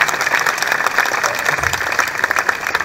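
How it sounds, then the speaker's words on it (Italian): Brief burst of applause from an audience at a literary prize ceremony in Sarzana, a dense wash of clapping that stays fairly loud and fades slightly toward the end. "credo di meritarmi un applauso"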